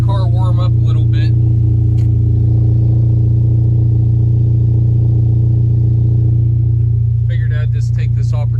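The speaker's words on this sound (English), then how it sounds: "while I'm letting the car warm up a little bit" A VW Mk7 car's engine idles while warming up in a shop, a steady low hum throughout, with someone talking briefly at the start and again near the end.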